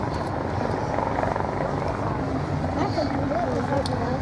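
A coastguard search-and-rescue helicopter hovers over a lifeboat during a winch transfer, its rotor a steady, heavy rumbling drone heard from a distance, with a voice talking over it.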